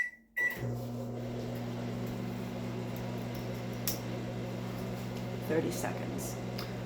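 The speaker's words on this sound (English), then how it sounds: "So please excuse me while I go to the microwave." A microwave oven hums steadily with a low electrical drone after a brief beep at the start, with faint clicks and rustles nearby, while melting food for 30 seconds.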